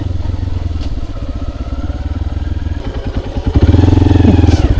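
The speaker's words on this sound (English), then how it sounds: "The hum of the motorbike" Motorbike engine humming steadily on a road in southern Vietnam's Mekong Delta, loud and close throughout, with a throbbing rise in revs toward the end.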